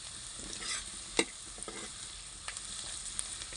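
Onions frying in a pan for dhaba-style kadhi, a steady close sizzle with scattered clinks and scrapes of a spoon stirring, no voices.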